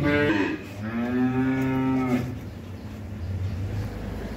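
A heifer calf from a cow's first calving lets out one drawn-out, resonant moo up close on a farm, followed by low background noise.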